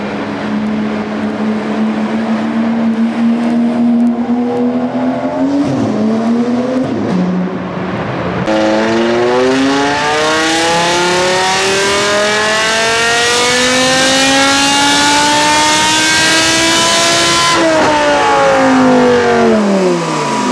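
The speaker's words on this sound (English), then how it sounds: "Loudest car" A loud car engine revs hard and climbs in pitch repeatedly, with a brief drop around the middle before surging again and holding a high, strained note, then falling off at the end; no one talks.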